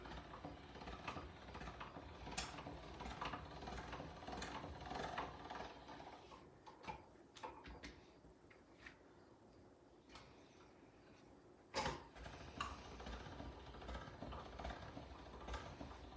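A hand-cranked pasta machine feeds ramen dough through its thinnest setting, number 9. The mechanism gives quiet, close creaking and ratcheting clicks in a soft irregular rhythm, with one sharper clack partway through.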